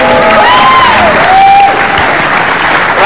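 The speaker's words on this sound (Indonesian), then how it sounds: "Tepuk tangan tuh Pak Wito" Loud, dense studio audience applause on an Indonesian TV comedy talk show, steady clapping with a few whistle-like cheers over about three seconds.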